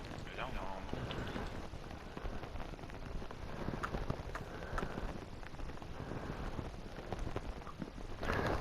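Horse hooves clip-clop on the ground in a Minecraft survival world, a steady trot close by, running under continuous conversation between players.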